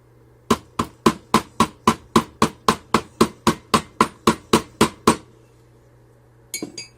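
Red clay casting sand is rammed down around a wax pattern: about seventeen sharp, evenly spaced pounding strikes close by, followed after a pause by a short clattering scrape.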